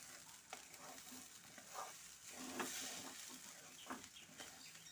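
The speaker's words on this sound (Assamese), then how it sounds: "এতিয়া এই পিয়াজৰ লগত চাউলখিনি ভাজি থাকিব লাগিব।" Washed rice is stirred and fried with onions in oil in a pan for polao, making a soft continuous sizzle with occasional scraping stirs, quiet and close with no voices.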